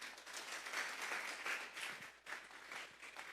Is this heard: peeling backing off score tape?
no